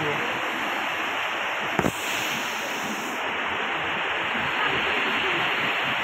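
Fast-flowing water rushing near a temple gate, a loud broadband roar filling the whole stretch, steady and close, with one brief clack partway through.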